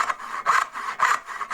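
Hand saw cutting dovetails in wood with a light touch in the kerf, three quick rasping push strokes in a steady rhythm, close and clear with no talking.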